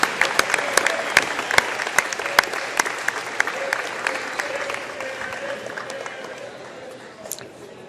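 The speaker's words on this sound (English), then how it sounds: "Ladies and gentlemen, give these folks a great round of applause." Crowd at a high school football game, Hillcrest vs. North Gwinnett, giving a round of applause for an award to the Cooks, sharp individual claps over a steady wash that gradually fades toward the end.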